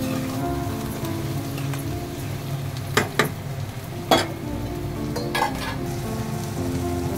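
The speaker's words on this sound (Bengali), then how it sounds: "এখানে পেঁয়াজ কুচি আর মরিচ কুচি, কাঁচা মরিচ কুচি করে রাখছিলাম আমি। এটা 1 মিনিটের মতো ভেজে নেবো আমি" Chopped onion and green chili frying in a pan, a steady close sizzle with a few sharp clinks of a stirring utensil.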